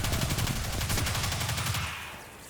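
Rapid automatic gunfire from the video game Destiny 2 rattles in a fast, loud burst of evenly spaced shots that stops after about two seconds, leaving a fading tail.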